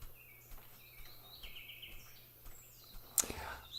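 Songbirds singing outdoors, with scattered high chirps and short warbling phrases at a moderate distance and one sharper, louder call near the end, all over a faint low hum.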